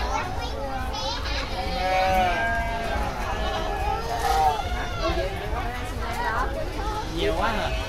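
A goat bleats at a Saigon zoo enclosure while being hand-fed, its wavering calls mixed in with steady chatter from adults and children nearby in a noisy crowd.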